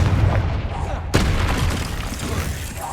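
A Confringo fire spell exploding in the Hogwarts Legacy video game, a single sharp boom that lands over a dense, noisy rumble of game sound and then trails off.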